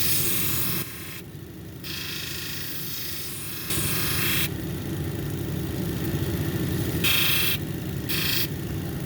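A lapidary wheel grinds the edge of a Mexican red lace agate cabochon, a steady motor hum with a gritty whir that shifts in tone as the stone is pressed on and lifted off, close and alone.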